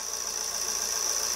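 2010 Vauxhall Insignia engine idling with the EGR valve moving, a steady close mechanical hum with a high whine running throughout.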